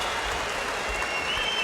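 A crowd at an M-1 Challenge MMA fight cheers and applauds in a continuous, fairly steady wash of noise with no break over the short moment.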